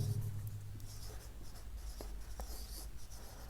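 Steady scratching of writing, likely chalk or marker on a board, during a chemistry lesson on hydrogen bonding; continuous close strokes with faint low hum underneath, no talk.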